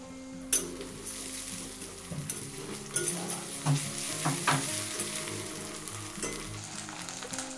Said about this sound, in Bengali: আর এখানে দিয়ে দেবো আদা রসুনের পেস্ট 1 চামচ দিয়ে দিলাম।